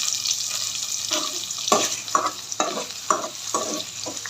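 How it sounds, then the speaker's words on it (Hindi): Onions stirred and frying in hot oil in a kadhai for tori sabzi, a steady sizzle with repeated scraping stir strokes about every half second, close and alone. "ऑयल हमारा गर्म हो चुका है। जो अनियन हमने काटे थे वो इसमें डाल"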